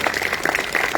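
Audience at a school event applauds the general manager's wife, Nerese, with a short burst of close, brisk clapping from a modest crowd, claps overlapping irregularly.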